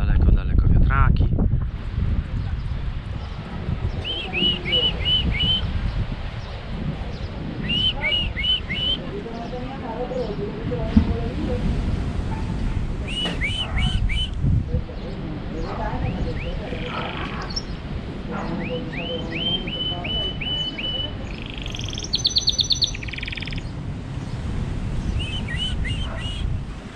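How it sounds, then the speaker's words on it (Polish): A canary trills in short, repeated high bursts on a windy coastal spot in Tenerife by the ocean, the song phrases recurring every few seconds over steady wind and surf rumble, with a person talking at times. "Ptaszek sobie śpiewa, kanarek, a tu ocean."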